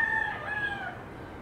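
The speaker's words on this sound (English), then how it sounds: "You hear the roosters?" A rooster crows in the distance, its drawn-out call rising and then fading, heard faintly over soft background hum.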